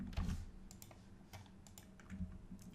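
Computer keyboard keys pressed in short clustered bursts while copying and pasting blog content, quiet clicks near the mic with gaps between strokes.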